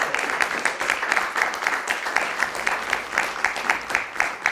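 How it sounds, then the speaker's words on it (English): An audience at a sports media panel event gives the panelists a steady round of applause, rhythmic clapping at moderate volume that continues evenly throughout. "A round of applause for our panelists."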